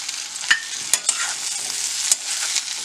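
Potatoes and salt being stirred in a hot frying pan, with a steady close sizzle broken by a few sharp scrapes and clacks of the utensil against the pan.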